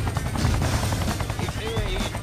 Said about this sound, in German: Hubschrauber, okay.